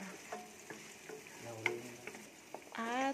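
Onions frying in a pan, with a quiet sizzle and scattered stirring ticks close by, while a voice talks softly at moments.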